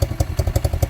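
A small pit bike engine runs close by, giving a quick, even, throbbing putter with a rapid regular pulse, loud and alone.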